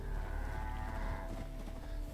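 Cow mooing in a video game, one long low drawn-out moo close and fairly loud, alone without talk.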